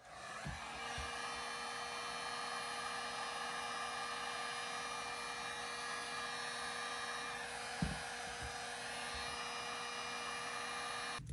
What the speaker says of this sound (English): Now I'm just going to grab my heat gun and seal these up.